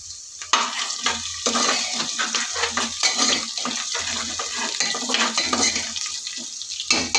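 Onions frying for biryani in a pot, sizzling steadily while a utensil stirs and scrapes against the metal in repeated strokes, close and fairly loud with no talking.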